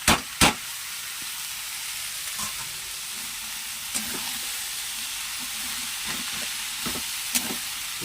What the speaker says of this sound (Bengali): এটা একটু ভাজা ভাজা হয়ে যাক দেখছেন একদম ভাজা ভাজা হয়ে গেছে